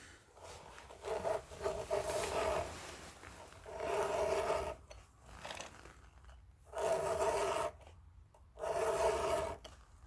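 Chainsaw chain teeth being sharpened with a hand file against a guide: four rhythmic rasping strokes, each about a second or more long, separated by short quiet gaps, close and clear.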